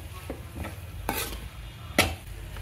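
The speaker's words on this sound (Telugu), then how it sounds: "ఈ రైస్ ఈ టమాటా గుజ్జులో కలిసిపోయేటట్టుగా బాగా కలుపుకోవాలండి" Rice being stirred into tomato pulp in a pan, with a few soft scraping strokes over a faint sizzle, one sharper scrape near the end.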